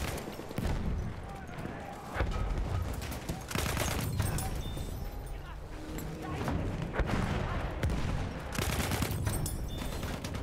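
MP18 Optical submachine gun fire in Battlefield 1 on PS5, a series of sharp, close rapid-fire bursts separated by brief pauses, with other battlefield noise between them.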